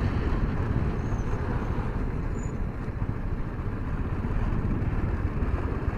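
Motorcycle climbing a steep hill road near Fish Point in Mainpat, Chhattisgarh: a steady engine drone heavily buffeted by wind noise, continuous and loud throughout with no talk.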